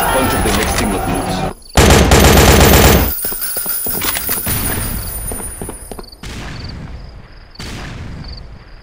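Rapid automatic AK-47 fire in a multiplayer shooter game, loud and close, with dense sustained bursts and a long fusillade, then shorter volleys separated by brief gaps and a faint voice underneath.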